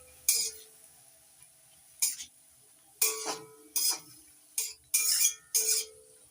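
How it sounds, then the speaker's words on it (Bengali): Salt being stirred into kharkol leaves in a pan, a series of sharp metallic scrapes and clinks of a spoon against the pan, coming in separate bursts with short pauses between, close and clear. "নাড়াচাড়া করে লবণটা খারকোল পাতার সঙ্গে মিশিয়ে নিচ্ছি।"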